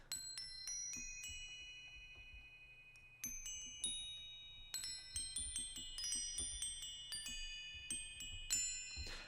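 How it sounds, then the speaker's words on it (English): Sampled wind chimes from the free Kontakt instrument Chimes 2, a cluster of delicate metallic tinkles struck in loose, irregular bursts with long ringing decays, quiet overall and growing busier toward the end, with no speech. "they're like wind chimes, not like chimes, and they sound like this"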